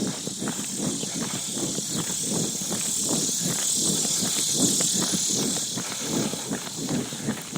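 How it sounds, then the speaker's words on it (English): Cicadas drone in a steady, dense buzz with faint rhythmic pulsing, filling the background for several seconds without talking. "Cicadas."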